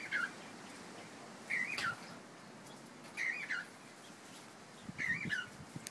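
Cockatiels in an aviary give four spaced, warbling chirps, moderately close over a quiet, steady outdoor background hum.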